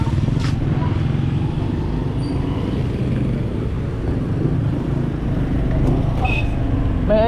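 Motorcycles and other road traffic passing on a street in the Philippines, a continuous near rumble of engines with faint higher tones near the end.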